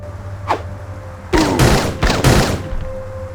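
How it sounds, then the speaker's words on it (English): Gunfire in the video game Blade Runner: a faint click, then a loud close volley of several sharp shots with ringing decay over a steady background hum. "Draw your weapon, point, and shoot."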